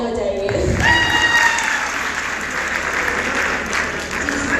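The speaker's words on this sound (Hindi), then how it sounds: "जजेस के लिए तालियां बजाइए।" Audience applause for the judges at a Grand Final bait bazi poetry contest at GCU Lahore, a steady wash of clapping from a hall crowd that follows a brief bit of speech and holds evenly throughout.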